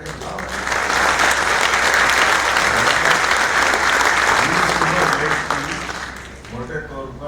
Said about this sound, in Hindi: जोरदार ताली वाली बजा के बुलाओ